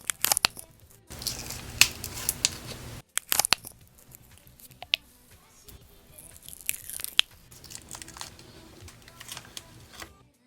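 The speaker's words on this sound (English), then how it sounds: "I'm going to do a tiny little ASMR of me unwrapping these." Individually packaged HIMI jelly gouache pots are unwrapped up close, with crisp crinkling, tearing and crackling of plastic wrap in irregular bursts, plus small clicks and pauses between.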